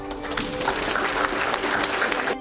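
An audience at a leadership and change keynote gives itself a round of applause, a full, even burst of many people clapping at moderate loudness that stops abruptly after a couple of seconds, with no voices.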